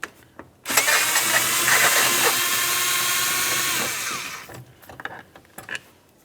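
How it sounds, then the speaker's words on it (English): A power driver fitted with a T27 Torx bit whirs steadily for about three seconds, backing out a door handle mounting bolt on a 2003-2011 Mercury Grand Marquis rear door, then stops, leaving faint clicks and handling noise. "Use a T27 Torx bit to remove it."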